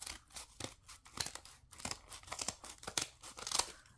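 Scissors snip through paper while a handmade junk journal is assembled, a close run of quick, irregular cuts and rustles with no one talking.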